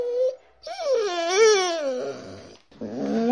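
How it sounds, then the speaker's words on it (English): A dog whimpers and wails in a drawn-out, wavering whine, close and fairly loud, broken by short pauses. "D for dog, D for dog."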